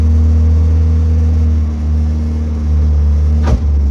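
A 1976 MG Midget engine idles steadily nearby in a loud, even low rumble, with one brief knock near the end and no talking.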